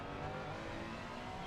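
A race car engine in a racing video game drones steadily at a constant pitch, quiet and distant, with a faint tire squeal.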